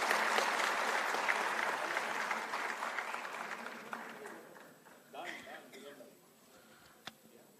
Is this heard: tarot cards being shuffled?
no